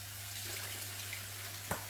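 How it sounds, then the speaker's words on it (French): A kitchen tap runs while hands are washed beneath it, giving a faint, steady wash of water with a soft knock near the end. "Je vais me laver les minottes."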